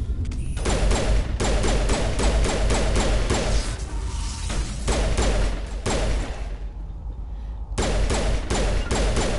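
Rapid pistol gunfire in the Mass Effect video game, bursts of loud shots in quick repeated volleys with a brief lull in the middle, over constant game background noise.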